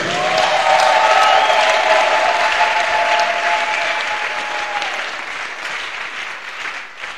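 A church congregation claps to acclaim the Lord, with loud sustained applause and a faint sung or cheering tone over it early on, gradually easing off toward the end.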